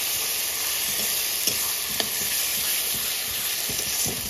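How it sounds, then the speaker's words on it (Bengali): Spice masala of chilli and cumin sizzles steadily in hot oil while being stirred, a dense, continuous frying hiss with occasional scrapes of the spoon, close and loud throughout for a chicken fry. "এবার বেশ মশলাটা ভালো করে কষাবো।"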